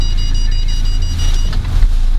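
A Volvo car drives close by with a loud, steady low engine and road rumble that swells slightly near the end, no voices.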